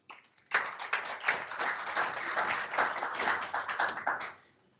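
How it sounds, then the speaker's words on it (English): An audience at a USAID TradeHub event in Namibia gives a short round of applause, a moderate, fairly sparse patter of clapping hands that swells briefly and fades out after about four seconds. "I think we can give a better round of applause than that."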